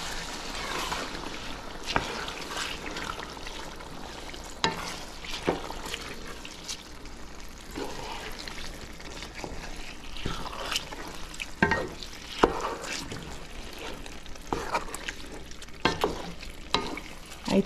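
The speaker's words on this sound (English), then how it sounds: "and I'm going to stir." A spoon scrapes and stirs through a pot of jollof rice mixture, with irregular knocks against the pot and a soft simmering bubble underneath, close and unaccompanied by speech.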